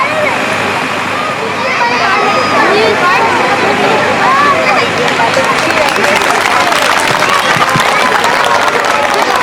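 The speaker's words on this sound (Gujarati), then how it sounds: "તાળીઓના ગડગડાટથી આપણે વધાવીએ" Sustained applause from an audience at a school annual function, dense clapping that swells after the first couple of seconds and stays loud and even, with crowd murmur mixed in.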